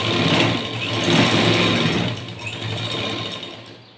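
A sewing machine stitches lining cloth onto a straight-cut blouse, running as a steady, close mechanical whir that holds through most of the stretch and eases off near the end.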